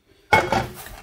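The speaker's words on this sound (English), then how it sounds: "I'm gonna crack all 3 eggs" One of three eggs is cracked, a single sharp clack against a hard edge followed by a short crunchy trail as the shell breaks, close and alone.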